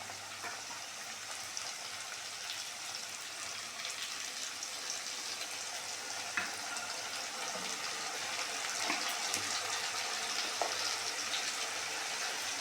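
Ginger garlic paste sizzling in hot frying oil with fried onions, a steady close hiss and crackle that holds evenly throughout with no talking.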